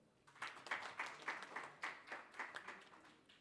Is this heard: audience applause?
yes